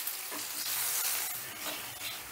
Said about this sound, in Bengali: এবারে এই মশলাটাও আমি মিনিট 2-এর মতন কষে নেব।